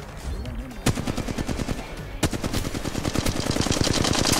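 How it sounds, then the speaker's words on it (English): Rapid bursts of automatic gunfire in the Apex Legends Mobile battle royale, close and loud, with dense repeated shots through most of the stretch and a couple of sharp louder cracks. "Shots over here."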